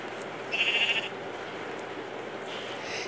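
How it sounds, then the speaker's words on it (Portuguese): A sheep bleats in Minecraft, the video game: one short, wavering bleat, clear and mid-distance, then a second fainter bleat near the end over a soft background hiss. "Tem uma ovelha lá em cima, gente."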